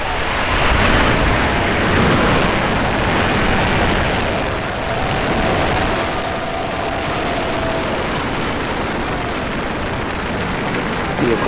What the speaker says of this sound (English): Ignition, liftoff.